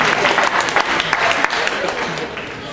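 Audience at a comedy hypnosis show applauding steadily, a dense wash of clapping that stays loud and even throughout with no voices rising above it.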